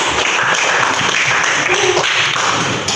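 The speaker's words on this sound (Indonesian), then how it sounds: "tepuk tangan dulu." Classroom applause from a group of students, a brief burst of quick uneven clapping close by, mixed with some voices talking over it.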